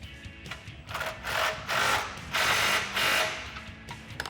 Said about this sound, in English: Now to tighten up this new bolt, you'll need a 19mm wrench and a 19mm socket.